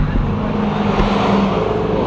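A race-spec Lamborghini at an outdoor car show drives past with a loud, rumbling engine roar that stays strong and close for a couple of seconds, with traffic noise around it.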